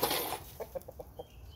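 A few short, soft clucks from chickens, spaced irregularly after a brief burst of noise at the start.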